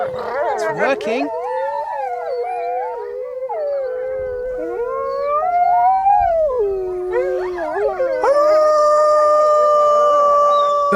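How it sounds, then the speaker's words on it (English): Several wolves howl together in long, wavering, overlapping tones that rise and fall, steady and fairly close, with a few yips at the start and a higher chorus of voices joining near the end. "The howl can be heard by other wolves over 6 miles away"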